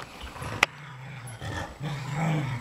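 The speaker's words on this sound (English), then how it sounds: "Bark that little black man down." A dog gives a close, low growling bark with a sharp yelp near the start, rumbling on briefly.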